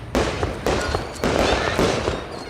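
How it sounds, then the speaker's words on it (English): Fireworks go off outdoors in about four loud, sharp blasts spaced roughly half a second apart, each trailing into crackling noise, with no talking. "there is fireworks going off at my friend's house"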